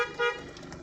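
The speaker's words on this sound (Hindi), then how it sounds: "हॉर्न मारिए अंकल जी को" A short car horn toot sounds during a driving lesson, faint and brief with a slightly stronger middle burst, lasting under a second.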